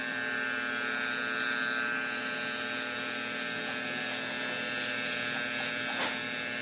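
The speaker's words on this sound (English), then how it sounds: "we're gonna do that by brushing the hair in front of the ear with the corner of the blade" Electric hair clippers buzz steadily while trimming hair in front of and around the ear during an all-even haircut, a close, continuous motor whine with no talking.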